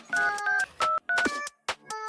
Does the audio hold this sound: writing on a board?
no